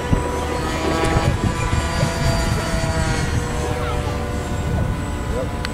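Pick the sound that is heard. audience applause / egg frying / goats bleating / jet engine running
jet engine running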